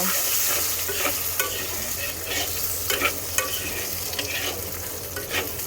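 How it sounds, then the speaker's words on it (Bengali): Boiled potatoes fry in hot oil with bay leaves and whole cumin, producing a continuous close sizzle with repeated scraping stirs of a spatula against the pan. No voices are heard. "আলুটাকে সুন্দর করে ভেজে নেব"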